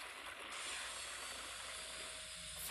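Steady broadband hiss of steam rising off water in a Roblox game, continuous and fairly even throughout with no talking.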